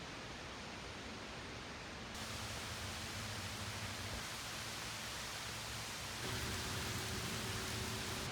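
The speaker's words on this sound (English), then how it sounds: "It's raining right there." Steady rain falls during a storm at Gettysburg, Pennsylvania, a constant dense hiss that grows slightly louder in two steps, with no voices.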